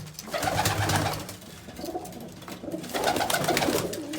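Pigeons cooing in a loft, soft repeated low coos in two bursts, close by with no talk.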